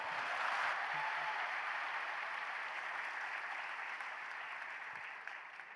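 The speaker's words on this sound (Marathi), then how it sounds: "टाळ्या एकदा जोरात." Steady, dense audience applause at a talk, a continuous wash of clapping that holds for several seconds and fades slightly toward the end.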